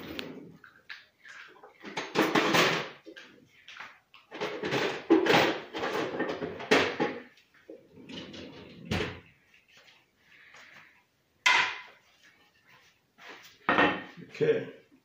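A kitchen drawer is pulled open and rummaged through, with wooden knocks, slams and clattering utensils in bursts close by, while a person speaks briefly in between.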